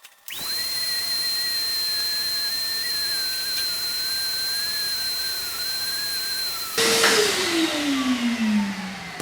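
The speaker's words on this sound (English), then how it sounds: "I'm gonna suck this seat up with the shop vac, clean it up, and go from there." A shop vac vacuuming a seat in a 1997 Jeep Wrangler, loud steady whining roar with a high whistle, the pitch shifting and turning rougher near the end as the nozzle moves over the fabric.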